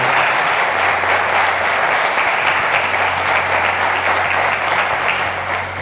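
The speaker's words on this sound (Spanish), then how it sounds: "Por favor, un fuerte aplauso para él." An audience at a mystery conference in Zamora gives a strong round of applause for a radio show producer, loud sustained clapping with a low steady hum underneath.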